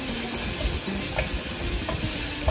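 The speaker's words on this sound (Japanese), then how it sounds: "めちゃくちゃ炒めます。" Pork belly with green onion and salt stir-fries in a hot pan: a dense, steady sizzle with light scraping stirs, close and without talk.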